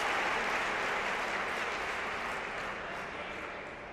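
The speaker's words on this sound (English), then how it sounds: "the crowd's starting the slow clap" A table tennis crowd at a live match claps together, a thick continuous roar of hands at steady loudness that slowly fades toward the end.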